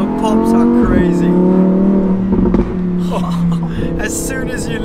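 Lamborghini Huracan EVO RWD Spyder V10 exhaust, loud and close, with a steady engine drone broken by sharp crackling pops on throttle lift-off, while someone talks over it.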